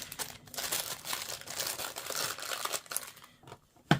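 Fingers smooth crinkly tissue paper over a wax candle, giving a steady soft rustling and crinkling that runs up close throughout, with a sharper crackle right near the end.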